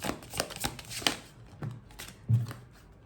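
Oracle cards shuffled by hand at close range, several quick riffling bursts and soft flicks with pauses between, fairly quiet and without speech.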